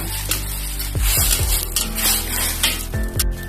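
Pineapple and shiitake mushrooms stir-fried with soy sauce for a vegetarian dish: a steady sizzle under repeated close spatula scrapes and clanks against the pan, several quick strokes in a row.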